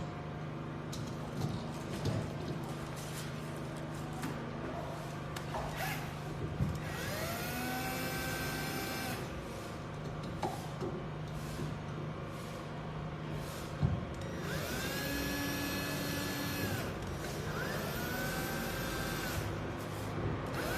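A powered screwdriver fastens a GFCI outlet to its electrical box in two sustained whirring bursts, with a steady motor whine rising and settling, heard up close over faint background hum.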